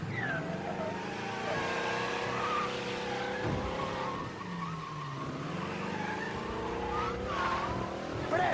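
Car driving in Mafia: Definitive Edition, engine droning steadily with rising and falling revs and tire squeals throughout, loud and continuous.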